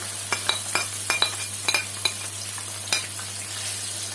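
Liver and kidneys frying in a pan, with a steady hiss of sizzling and a series of light scraping and clinking stirs at irregular intervals, heard close up with no talking.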